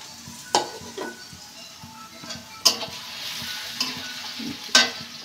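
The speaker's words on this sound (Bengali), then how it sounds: "পেঁয়াজটা ব্রাউন কালার হয়ে গেছে" Onions browning in a pan before noodles are cooked, a soft steady sizzle broken by several sharp clinks and scrapes of a spoon against the pan.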